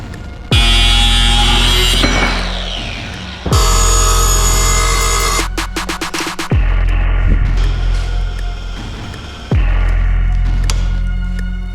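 Welder laying test welds, with loud bursts of crackling, buzzing arc noise starting and stopping several times over a steady low hum, close to the microphone.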